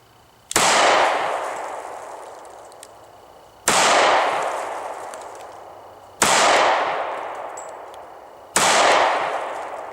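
Four loud, sharp pistol shots from a S&W M&P Shield 40 at a shooting range, evenly spaced a few seconds apart, each ringing out and slowly decaying before the next.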